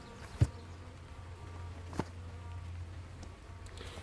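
Honey bees buzz steadily and close around an open hive, a low continuous drone with a couple of sharp knocks near the start and midway.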